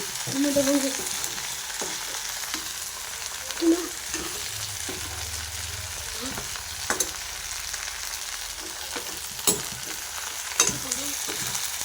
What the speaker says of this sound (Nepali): मैले नुन र बेसार मात्र हालेको छु, अनि खोर्सानी पकाएको छु।